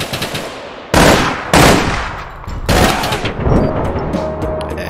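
Gunfire in the video game APB Reloaded: loud repeated bursts of automatic fire, four main volleys in quick succession, close and sharp, each trailing off into reverberant decay.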